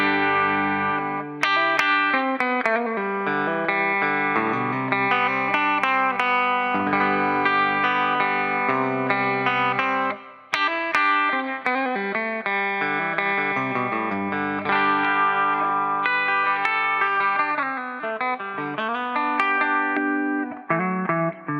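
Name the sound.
guitar through Epiphone So Cal 50 amp head, clean channel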